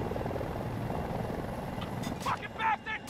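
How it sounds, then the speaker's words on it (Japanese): Helicopter in the video game Battlefield 2042, a steady rotor and engine drone that holds through the moment, with a few short game effects near the end. "仲間のヘリコプター、仲間のヘリコプターが湧いてるから、なんか俺運転になってんだけど"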